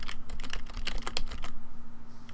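Fingers typing on a computer keyboard, a quick close burst of about a dozen crisp key clicks over roughly a second and a half, then tapering off into quiet, with no speech.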